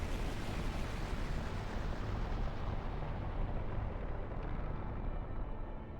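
A continuous barrage of explosions from the video game Chrono Cross, loud and dense, rumbling without a break for several seconds before thinning slightly in the upper range toward the end.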